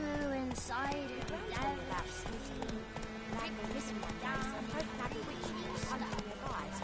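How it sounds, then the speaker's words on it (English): Quick rhythmic hoofbeats of a galloping horse in The Witcher 3: Wild Hunt, with a voice talking over the clatter and other game sounds. "Why you call your horse Roach, man?"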